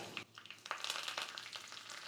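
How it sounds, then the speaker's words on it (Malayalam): Half a teaspoon of mustard seeds frying in hot coconut oil for pineapple kichadi, a close, bright crackling sizzle with scattered popping bursts, continuous and alone. "വെളിച്ചെണ്ണ ചൂടാകുമ്പോൾ അര ടീസ്പൂൺ കടുക് ഇട്ട് കൊടുക്കുക"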